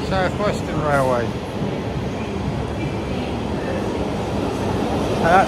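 A South Western Railway train rumbles steadily nearby with a low rolling drone, while a person speaks briefly near the start and again at the end.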